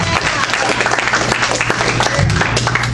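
A comedy club audience bursts into dense, sustained applause welcoming the host and MC, steady and loud throughout, with a low hum running underneath.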